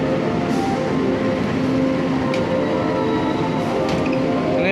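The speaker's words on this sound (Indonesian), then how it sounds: "Yang masuk di jalur 4 ini merupakan kereta api Malabar dari stasiun Bandung tujuan ke Malang." The Malabar passenger train from Bandung to Malang pulling into platform 4 of a station, a loud continuous rumble of rolling cars with faint squeals and clanks over it, heard close by without talk.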